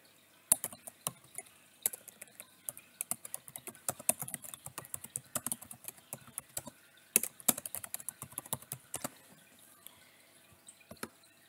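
Crisp, sparse keystrokes on a computer keyboard, typed in short irregular bursts with pauses, close and fairly quiet against a near-silent room.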